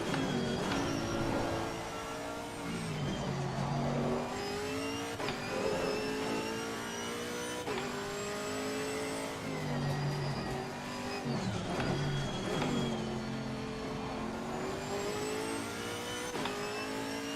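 A race car engine in Assetto Corsa Competizione revs and shifts through the gears around Bathurst's Mount Panorama, loud and close, rising and falling steadily with the throttle and carrying no talk.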